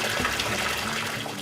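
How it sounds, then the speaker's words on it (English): Hot mineral water at over 130 degrees pours steadily from wooden flumes through a mix of primitive and modern plumbing into barrel-shaped soaking tubs at a hot spring, a continuous close gushing splash with no voices. "Wood flumes deliver 130-plus degree mineral water into a mix of primitive and modern plumbing that fills a series of barrel-shaped soaking tubs"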